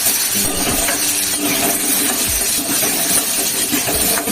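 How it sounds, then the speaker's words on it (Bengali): Potatoes frying in a pan of oil for a vegetarian okra dish, a steady loud hiss of sizzling that runs unbroken from start to finish with no one talking. "এবারে আলুটা একটু ভাজিয়ে দিই"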